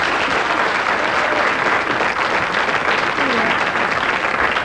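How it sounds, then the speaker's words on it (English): Studio audience applause for a quiz show contestant, a steady, dense wash of clapping that fills the whole stretch at even loudness with no talk over it. "Give her a round of applause"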